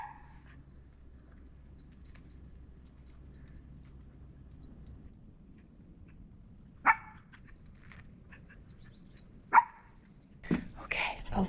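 Dog on a forest trail, with a few sharp, isolated barks or yelps rising out of quiet outdoor background, spaced several seconds apart and loudest near the end.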